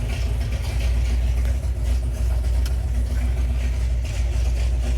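1971 Chevrolet Nova with a 454 engine, Turbo 400 transmission and Borla exhaust runs at a deep, rumbling idle, with slight swells as the gas is lightly touched. It is heard steadily and close up.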